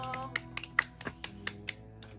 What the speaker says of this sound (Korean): 박수 칠게요.